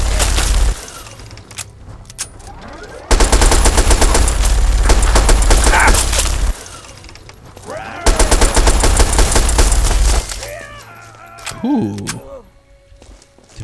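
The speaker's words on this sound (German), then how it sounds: "jetzt wird er gleich mit der Minigun feuern" Bursts of minigun fire in the video game Fallout 3, loud sustained rattling volleys broken by pauses, with a player talking in German between and over the shooting.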